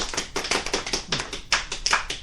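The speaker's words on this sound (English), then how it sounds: "Applause, everyone." A small group claps for a couple of seconds, quick uneven hand claps close by, no voices.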